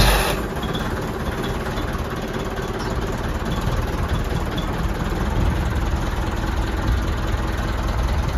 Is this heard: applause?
no